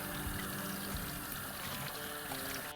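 Water pours and trickles steadily while a motorcycle helmet's interior liner is rinsed, a quiet continuous splashing heard alone for a few seconds.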